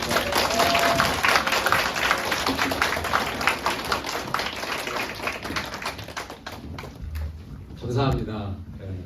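Church congregation at a young-adults Sunday worship service applauds loudly to welcome the pastor, a dense wash of clapping with some voices that thins out toward the end.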